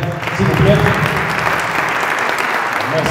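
Indoor audience at a comedy show in Bukavu, South Kivu, breaking into dense sustained applause, a loud even wash of clapping that carries through the whole moment.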